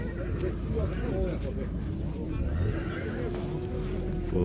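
Horses neigh and whinny at an open-air horse market, with hooves clip-clopping beneath a constant hubbub of voices and crowd noise.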